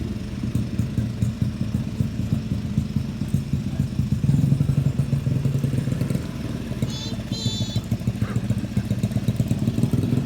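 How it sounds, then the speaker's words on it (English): A small Honda CRF50 dirt bike lapping a front yard, its little engine buzzing and clattering steadily throughout at moderate distance, with a brief faint high whine partway through. "Asher spins some laps here in the front yard on his little CRF50"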